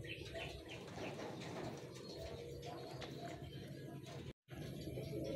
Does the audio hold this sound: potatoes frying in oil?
no